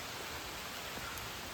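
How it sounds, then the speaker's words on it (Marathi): Heavy monsoon rain pours down in forest on a trek near Lonavala, a dense, steady hiss of broadband downpour that holds constant throughout with no voices. "पाऊस चालू आहे खूपच जोरात"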